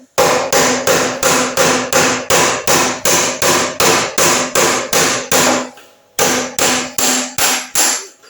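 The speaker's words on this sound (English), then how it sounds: "now we should be able to carry on drifting that, drifting the spindle out" Steel hammer blows drive a drift against the rear wheel spindle of a Matchless Model X motorcycle, about twenty loud, evenly spaced strikes in a fast rhythm, broken by one short pause before the blows resume.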